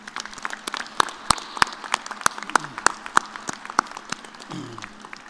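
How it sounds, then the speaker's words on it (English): A commencement audience bursts into a round of applause, with dense clapping and sharp individual claps standing out near the microphone, plus a few brief vocal sounds mixed in. "Will you please join me in a round of applause to thank them?"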